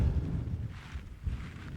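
Gusty wind on Ling Fell in the Lake District buffets the microphone, producing a low rumbling roar that swells and dips across the short stretch, with no talking.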